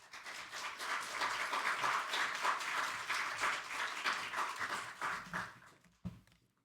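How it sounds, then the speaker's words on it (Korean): A chapel audience at a university worship service claps to welcome the pastor, dense sustained applause that holds steady, then fades and stops abruptly near the end, followed by a single soft thump. "우리 목사님 나오실 때 우리 환영의 박수 하도록 하겠습니다"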